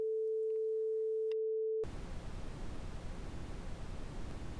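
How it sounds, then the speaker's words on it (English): Steady brown noise from a noise generator plugin fills the clip continuously after a brief pure test tone and a moment of silence, a loud, even, rumbling hiss that runs to the end. "I start the brown noise."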